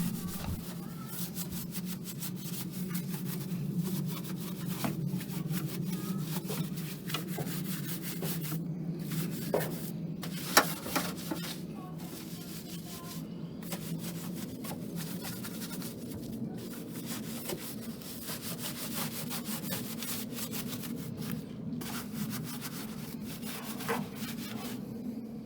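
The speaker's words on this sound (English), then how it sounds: "This is an EZ wheel cleaning brush." Steady rhythmic scrubbing of a car wheel with an EZ wheel cleaning brush, a continuous close bristly rubbing with occasional sharper scrapes and knocks, quiet and even throughout.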